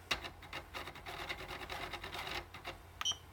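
A Prusa i3 3D printer moves its x-axis, making a brief stepper-motor whir in quick pulsing strokes for about two and a half seconds, close and fairly quiet, ending in a short high tone.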